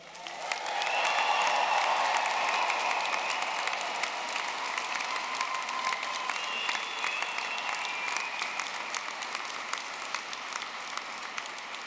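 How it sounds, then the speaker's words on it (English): Graduation ceremony audience at LJMU applauding and cheering loudly in a large hall, dense sustained clapping that starts within the first second and holds steady for about eleven seconds with a few whoops over it. "We've waited a long time, so one more time, a big cheer."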